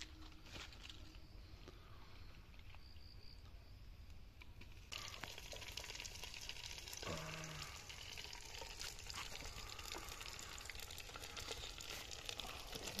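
Marinated mutton goes into hot oil in a handi. The quiet background jumps to a steady, crackling sizzle as the meat hits the oil, then fries on with faint clinks and movement.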